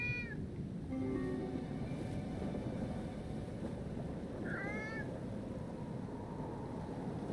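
A cat gives a few short meows, spaced apart and at moderate distance, over a steady low rumble of background noise. No one speaks.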